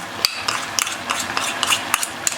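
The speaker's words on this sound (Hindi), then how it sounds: "घी ऐड करने के बाद आपने इसे अच्छे से भून लेना है।" Grated carrots being stirred and roasted in ghee for gajar ka halwa, with a spoon scraping and clinking against the pan in quick irregular strokes close by, without any talk.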